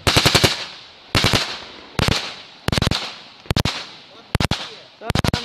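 Rapid bursts of automatic gunfire from a suppressed firearm in a war setting, about seven sharp clusters of several shots each, loud and close, separated by short pauses, with faint voices in between.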